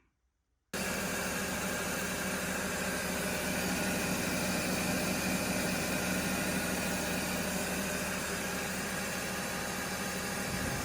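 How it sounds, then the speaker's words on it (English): A coil winding machine spinning 42 gauge plain enamel wire onto a 1950s Gibson Alnico staple guitar pickup bobbin starts abruptly and runs as a steady, even motor whir for about ten seconds, alone with no talk. "This machine can pretty much wind anything"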